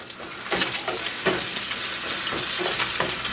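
Scrambled eggs with salt and pepper cooking in a pan give off a steady close sizzle, with soft scraping and stirring taps breaking through at irregular intervals.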